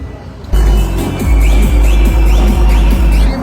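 A tractor engine idles up close in a village, throbbing loudly in a regular rhythm of heavy low pulses that starts abruptly and keeps a steady beat.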